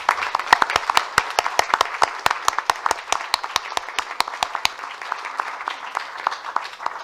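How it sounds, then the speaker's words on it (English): An audience at a city council meeting applauds award winners with a burst of sharp, distinct handclaps. The clapping is brisk and close for several seconds, then thins out and trails off. "We'll take applause on that category now."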